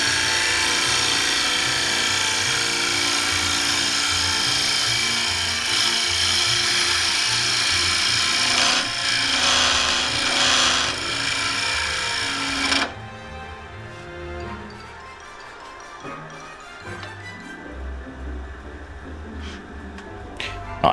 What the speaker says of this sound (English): this is the last pass before I pull the scraper out